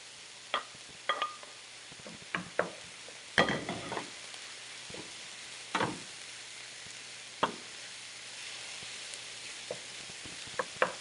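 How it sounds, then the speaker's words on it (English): Garlic and beef sizzle quietly in a pan as a spoon stirs them, giving a series of separate clacks and scrapes against a faint, low frying hiss. "now we're gonna add beige garlic, and then also the beef, and stir it"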